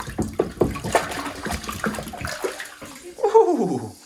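Water pouring and splashing into containers holding whole chickens for brining, a close, uneven gurgle with sloshes and bumps that rises into a fuller gush near the end.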